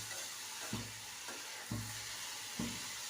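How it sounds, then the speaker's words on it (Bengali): Radish slices fry in a pan on a gas stove with a steady close sizzle. A few soft scraping stirs land at regular intervals, and no one speaks. "মূলাটা ভেজে নিব"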